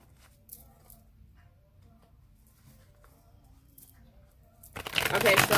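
Tarot cards being shuffled, a burst of dense crisp riffling that starts near the end after a long stretch of quiet, faint room sound and low murmuring.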